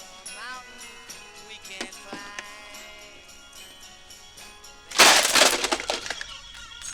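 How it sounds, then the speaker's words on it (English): An alarm clock smashed to the ground: a sharp loud crash with breaking, cracking debris arrives suddenly after a quieter stretch of scattered knocks and tonal bits, then rattles off over the final two seconds. "Every day when he got up, the first thing Phil did was to smash the alarm clock."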